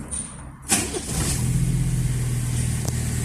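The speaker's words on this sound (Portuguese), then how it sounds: "Então eu vou ligar o carro" A cold Chevrolet Kadett GSI engine cranks with a brief burst, then catches and settles into a steady, low idling rumble that continues without pause.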